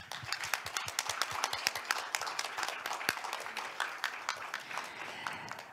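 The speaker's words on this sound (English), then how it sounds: "Please give them a big round of applause once again" Attendees at the 2023 STEPI Global Symposium panel discussion clap for the keynote speakers and panelists. Individual claps are distinct and moderately loud, forming a lively but not dense round of applause that tapers slightly near the end.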